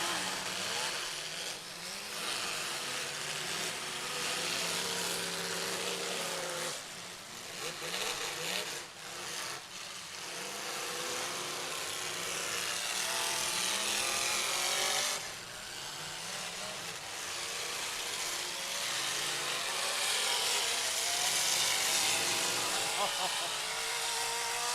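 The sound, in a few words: demolition derby car engine revving at high RPM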